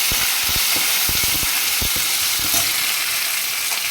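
Mustard seeds sputter and pop in hot oil while frying for a Kerala erussery with raw papaya and green gram. A steady sizzle runs throughout, with close, sharp crackles clustered early and scattered later.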